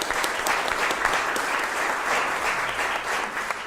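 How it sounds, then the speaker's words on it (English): An audience claps for Representative Michael Meredith at a bill-signing event for Kentucky's sports wagering regulations, a full, even round of applause with no voices over it. "Let's give him a big round of applause"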